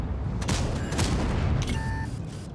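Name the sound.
tank gunfire in the video game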